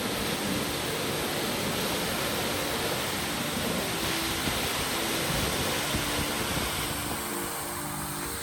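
A large waterfall in the Maval forest, a loud, continuous, dense roar of crashing water heard up close with no break and no voices.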